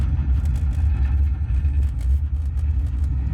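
Deep, steady rocket-launch rumble simulated on the Epcot Mission Space ride, Green Side, filling the low end continuously for several seconds with a roaring, vibrating texture and no speech.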